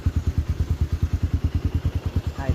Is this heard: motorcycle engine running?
yes